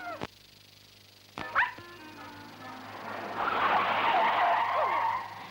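Lost dog inside a house, with a couple of sharp barks or yips early, then a rising scuffle of yelping and whimpering that swells and lingers near the end.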